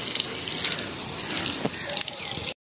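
Water from a motor pump gushing steadily for watering fields in a village, a continuous rushing splash that stays loud and close throughout.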